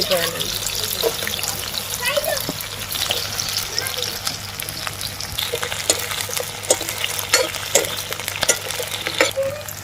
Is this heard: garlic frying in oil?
yes